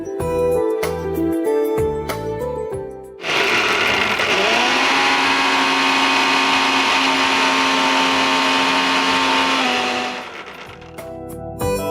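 A mixer grinder loudly grinds sprouted moong with salt and water in a kitchen, a steady whirring motor roar that holds for several seconds before winding down, with clattering at the start.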